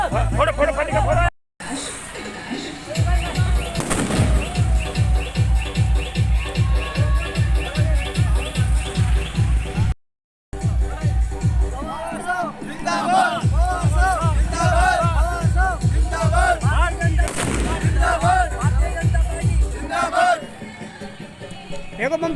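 Firecrackers bursting in a rapid, relentless string of loud cracks at a village celebration of a BJP election win, close and dense, with a crowd shouting over them and brief gaps between volleys.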